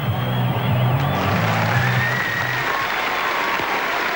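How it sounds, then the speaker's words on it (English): A roaring crowd at a Brookvale rugby league match goes wild, a dense, continuous wash of cheering and applause with a commentator's voice low underneath. "the crowd's gone berserk here"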